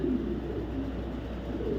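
Racing pigeons coo softly and low, a short murmuring burst over a steady background hum.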